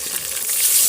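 Tomatoes and green chillies hit a hot frying pan, giving a steady close crackling sizzle that swells slightly toward the end, with no talking.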